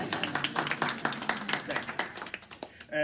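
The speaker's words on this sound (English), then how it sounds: "Now you can clap." Audience clapping at an academic session on ethnic and racial equity, a short ragged patter of hands from a modest crowd that tapers off within a few seconds before a voice returns.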